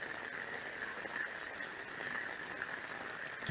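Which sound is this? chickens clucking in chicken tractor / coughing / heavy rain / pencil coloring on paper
heavy rain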